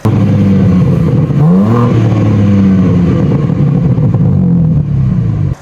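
A 2022 BMW M4 Competition's S58 straight-six engine revs up and holds, its tone rising and falling in deep harmonic sweeps, steady and close with no talking.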